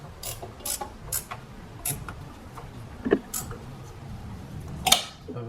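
Metallic ratcheting and clicking from a wrench snugging alternator mounting bolts on a 2015 Chevrolet Trax 1.4L Ecotec engine, heard as a few separate short bursts with pauses, close by and moderately quiet.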